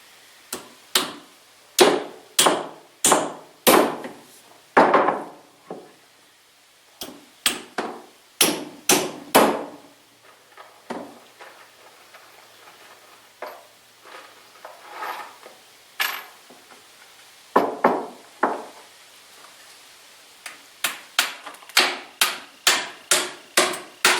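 Sinker nails with a hard coating being hammered into a scrap wood anvil stand: sharp, loud metallic blows in quick bursts of four to six strikes, separated by short pauses and some lighter taps, with no talking.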